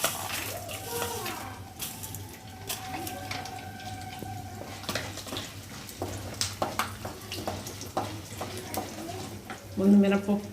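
Urad dal and dried red chillies sizzle in hot oil in a pan for pulihora, giving a steady low frying hiss beneath ongoing talk and children's voices, with occasional stirring clatter.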